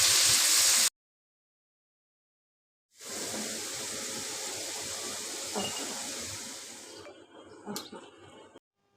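Cubed potatoes with a little turmeric and salt fry in hot oil, a steady loud sizzle and hiss that starts after a short silence, holds for about four seconds and then fades into a few faint clinks.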